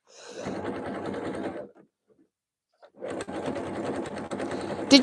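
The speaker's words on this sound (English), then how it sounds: "Just want to make sure this is sewing right." A sewing machine stitching through a rug runs in two loud, steady stretches separated by a short pause, close by and with no talk over it.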